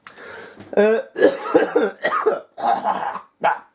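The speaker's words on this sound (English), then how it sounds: "Coughing up a lung there." A man coughs hard in several harsh bursts, close and loud, with short pauses between the fits.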